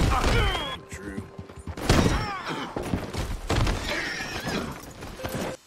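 A horse in Red Dead Redemption 2 gives a loud whinny at the start, followed by hoof clatter and game sounds, with other neighs and harmonic calls later over a busy background.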